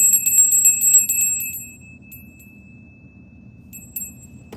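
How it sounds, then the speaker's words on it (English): Small bell rung to open a reading, a few quick bright rings close by that fade into a long sustained tone, followed by a faint tinkle near the end. "We're going to open up the reading with the bell."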